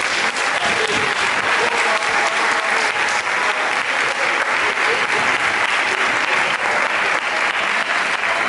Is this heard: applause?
yes